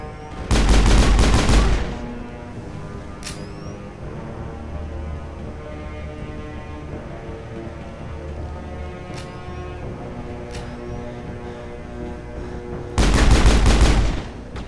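Squad gunfire in the video game Mass Effect comes as two loud bursts of rapid automatic shots at the start and end, over a steady low droning ambience with a few faint electronic chirps between them.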